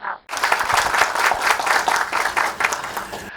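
Audience applause at a professional knowledge session, a sustained burst of dense clapping from a seated crowd that starts abruptly after a brief pause and continues steadily and fairly loud throughout.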